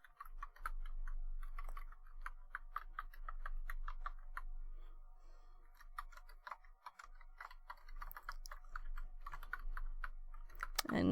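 Steady typing on a computer keyboard at a desk, with irregular bursts of sharp key clicks over a low constant hum, close and clear with no talking.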